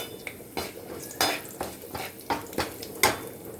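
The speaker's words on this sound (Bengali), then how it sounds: "একই তেলে গরম মশলা, জিরে আর 2টো তেজপাতা ফোড়ন দিলাম।" Garam masala, cumin seeds and two bay leaves go into hot oil in a pan, heard as a series of close clinks and scrapes of a spoon against metal over a faint sizzle.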